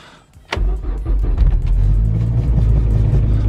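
A diesel-converted car engine with an EGR delete kit cranks and fires in cold weather, a sharp start followed by a loud, steady low rumbling idle close by.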